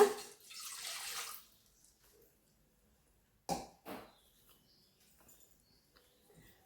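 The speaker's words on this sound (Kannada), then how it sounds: "ಈಗ ಪಾಕ ಮಾಡಲು 1/4 ಲೋಟ ನೀರು ಹಾಕೋಣ" A quarter cup of water is poured into a pan to start sugar syrup for badusha, a short splashing rush followed by a couple of quick drips and clinks, then near silence.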